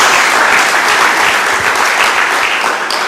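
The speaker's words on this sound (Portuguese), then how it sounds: "Dê uma salva de palmas a Jesus." A church congregation applauds in praise of Jesus during a sermon, a dense, steady wash of clapping held at a constant level from start to finish.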